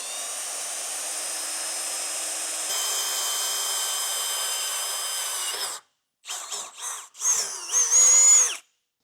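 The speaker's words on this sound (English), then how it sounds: "we're going to be drilling that out with a 1/2 inch drill bit." A power drill with a 1/2 inch bit bores a hole while a Roadmaster base plate kit is installed, a steady high whine that rises in pitch, then stops and restarts in short bursts.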